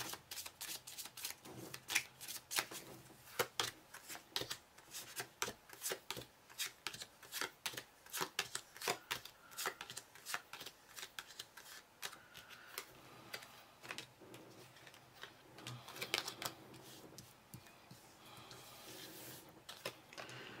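Tarot cards being shuffled by hand at close range: a continuous run of crisp riffling and flicking card sounds in irregular bursts, with brief pauses between passes and no talking.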